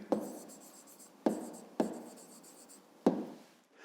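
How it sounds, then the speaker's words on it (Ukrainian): Handwriting on paper while writing out an answer to a fifth-grade maths exercise: four short, close scratching pen strokes separated by brief pauses, alone and quiet. "Пишемо відповідь."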